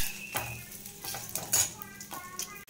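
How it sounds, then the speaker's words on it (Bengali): Cumin, bay leaf and dry chillies hit hot oil in a wok-style pan, giving a close crackling sizzle broken up by the scrape and clink of a spoon stirring against the metal. "তেল হয়ে গেছে গরম, দিয়ে দেব জিরে, দিয়ে দেব তেজপাতা, দিয়ে দেব শুকনো লঙ্কা"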